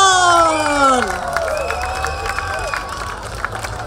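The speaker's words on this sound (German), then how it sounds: "Ich habe gesagt, großen Applaus." Crowd applause and cheering at an outdoor Hanfparade rally in 2018, with a loud voice shouting over the start before the clapping and hubbub carry on at a steady, moderate level.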